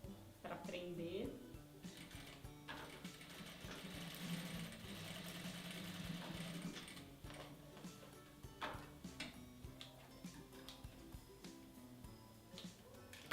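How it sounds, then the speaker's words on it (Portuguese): A sewing machine stitches down a fabric tab on a phone accessory holder, running in a quiet mid-length burst of buzzing stitches while a person talks softly around it. "E aí eu vou bater uma costurinha para prender."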